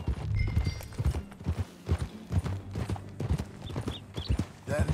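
Horse hooves clip-clop steadily at a riding pace in Red Dead Redemption 2, a close, rhythmic series of hoofbeats with a faint neigh near the end.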